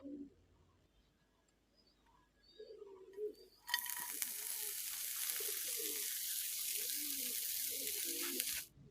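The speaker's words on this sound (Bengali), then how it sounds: "তেল ভালো করে গরম হলে এর মধ্যে দিয়ে দিব ধুয়ে জল ঝরিয়ে রাখা পুঁইশাক।" Washed Malabar spinach (pui shak) dropped into hot soybean oil bursts into a loud, steady hiss after a few seconds of quiet background chirping, sizzling close and continuously until it stops abruptly.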